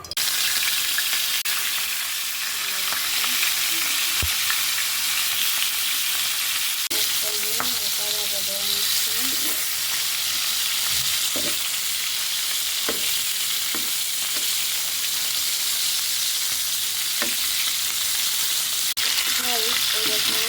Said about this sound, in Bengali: আমার মাছ ভাজা হয়ে গেছে, হালকা ভাজা দিয়ে নিয়েছি।